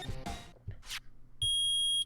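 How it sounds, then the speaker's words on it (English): A device beeps in the video game Ace Attorney: one loud, steady electronic tone lasting just over half a second. It follows a few short chirpy game sound effects. "Nick, it's beeping."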